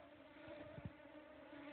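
Many mosquitoes swarming around a hiker on a forest section of the North Country Trail in Gogebic County, Michigan, making a faint, steady high whine with a brief closer buzz passing by.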